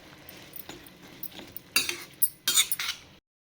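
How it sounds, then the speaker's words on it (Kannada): Okra stirred into bubbling masala in a pan, a few close metallic clinks and scrapes of a spoon against the pan in short bursts, growing busier toward the end over a faint background. "ಬೆಂಡೆಕಾಯಿ ಸೇರಿಸ್ಕೊಂಡು ನೀಟಾಗೆಲ್ಲ ಮಿಕ್ಸ್ ಮಾಡ್ಕೊಳ್ಳೋಣ"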